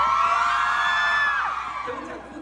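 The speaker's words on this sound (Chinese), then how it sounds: "所以我们这边你们先用你们尖叫声来庆祝她得奖" A concert audience at a campus show screams and whoops in celebration of a singer's award nomination, a sustained high-pitched crowd roar that fades slightly toward the end.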